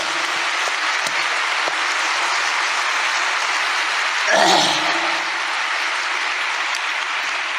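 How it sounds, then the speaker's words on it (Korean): A large convention hall audience at a Korean rally in Songdo ConvensiA applauds in a dense, sustained wash of clapping that holds steady for several seconds with one brief louder swell. "내가 생각하던 박수로 이 시간을 환영합니다"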